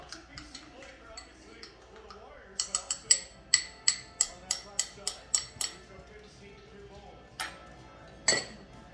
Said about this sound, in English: Let's give our garlic butter another swirl.